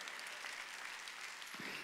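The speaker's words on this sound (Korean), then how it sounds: "박수 치라는 거예요" Applause from a congregation during a Sunday worship service at a church, a soft, distant, steady patter of many hands that keeps up evenly throughout.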